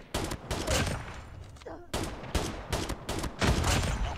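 Revolver shots in the video game Call of Duty Mobile ring out in several loud, close bursts with short gaps between them, with some brief voice sounds mixed in.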